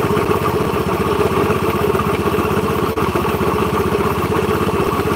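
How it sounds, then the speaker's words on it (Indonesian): Motorcycle engine idling steadily with a fast regular pulse and a clattering knock from the middle engine, loud and close throughout with no talk. "ini fix mesin tengah yang berbunyi"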